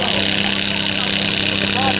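The Miracle X pulling tractor's engine roars at a tractor pulling competition at Fiume Veneto, a steady, loud, harsh mechanical drone filling the whole moment without a break.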